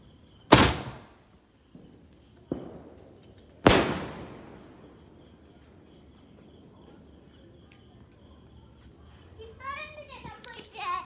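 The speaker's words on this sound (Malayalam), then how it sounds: "അപ്പുറത്തും ഇപ്പുറത്തും പടക്കം പൊട്ടിക്കല്" Firecrackers burst with two loud, sharp bangs and a couple of smaller pops, each echoing away into a quiet night outdoors, before children's voices rise faintly at the end.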